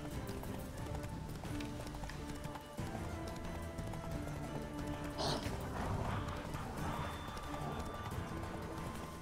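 Roach the horse gallops in Witcher 3 with a continuous rhythmic clip-clop of hooves, moderately loud and steady throughout under a busy game soundscape.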